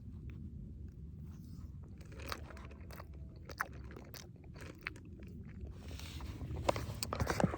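Close, quiet chewing and crunching while eating a rehydrated pasta bolognese camping meal outdoors in the Lake District fells, with irregular bites and mouth sounds over a low, steady outdoor rumble.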